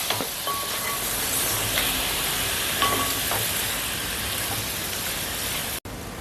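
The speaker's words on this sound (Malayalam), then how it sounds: "ഒരു പത്ത് മിനിറ്റ് നേരം ഇങ്ങനെ ഇളക്കി കൊടുക്കണം നാരങ്ങ നല്ലപോലെ അരിഞ്ഞു വരണം" Cut lemon pieces sizzle steadily in a hot pan for lemon pickle while being stirred, a dense continuous frying hiss with occasional scraping stirs, close and fairly loud.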